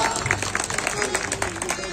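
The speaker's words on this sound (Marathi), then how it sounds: "मग टाळ्या काही वाजवा" An audience claps during a folk art performance, and a voice speaks over the clapping. The clapping comes as a dense, uneven patter of many hands, close and moderately loud.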